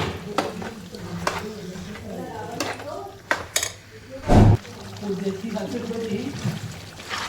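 Loud sizzling and frying of chicken in a pan on high flame, broken by sharp scrapes of a stirring utensil and one heavy burst, with a voice faintly underneath.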